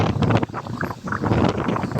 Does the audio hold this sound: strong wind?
yes